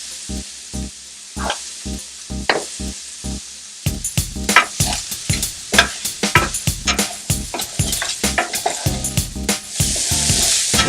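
Seasoned food sizzles in a pan over medium-low heat while a utensil stirs it, with rhythmic close scrapes and knocks that grow louder and busier partway through, and a steady hiss beneath.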